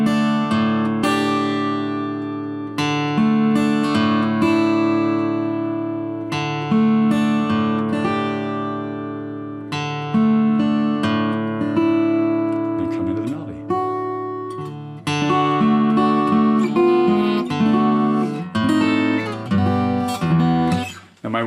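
An acoustic guitar plays the intro to O Little Town of Bethlehem, picking single strings in a gentle arpeggiated pattern with ringing notes and occasional strums, close and clear with no talking.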